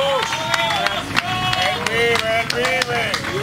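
A church congregation claps with sharp, uneven hand claps amid voices and shouts, while someone speaks over the crowd.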